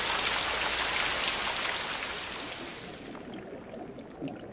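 Rain falls steadily on the waxy leaf rosettes of bromeliads in a forest, a dense close hiss of drops that fades gradually toward the end.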